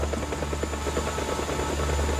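A helicopter flying, a loud steady rotor chop with rapid even thumping over a constant engine drone, close and alone.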